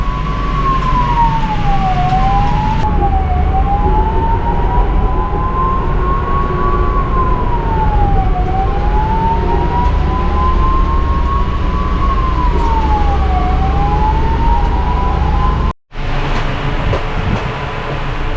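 An ambulance siren wails steadily in rising and falling sweeps, loud and close as if heard from inside the vehicle over a constant engine rumble, with a brief cut near the end.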